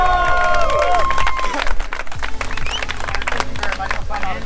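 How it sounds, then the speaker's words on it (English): Crowd clapping and cheering at an electric vehicle race event, with music and chatter mixed in; the clapping stays loud and busy throughout. "Let's give a huge round of applause."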